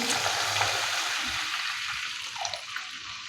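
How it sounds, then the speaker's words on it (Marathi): Water is poured into a pan of sautéed upma ingredients, making a continuous rushing, hissing wash that eases off toward the end. "आता याच्यामध्ये तीन वाटी पाणी घालायचं आहे"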